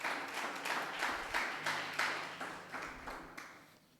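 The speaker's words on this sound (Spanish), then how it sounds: "Dale un aplauso al Señor." A church congregation claps in a steady rhythmic beat, each clap sharp and evenly spaced, fading slightly toward the end.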